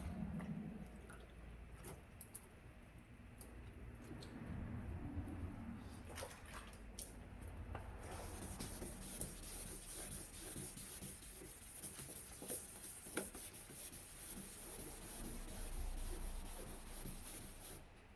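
Wet sanding fresh paint on a Honda Del Sol panel: a steady, soft rubbing and scrubbing with watery swishes, close and continuous, with a brief splash of wetting at the start.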